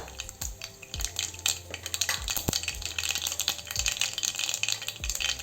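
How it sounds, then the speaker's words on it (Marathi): Mustard seeds and cumin added to hot oil for a Marathi soybean bhaji, crackling and sizzling up close with rapid popping and light rattling of the pan throughout. "आपला तेल गरम झालेला आहे, यात आपण मोहरी घालू अर्ध्यातून अर्धा चम्मच।"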